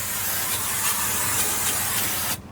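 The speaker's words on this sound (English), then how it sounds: "I'm gonna spray them down one more time with some canola oil just to make sure nothing sticks." Canola oil sprays from an aerosol can onto the grates of an M&M BBQ Company Texas Smoke King smoker in one loud, continuous hiss that cuts off abruptly.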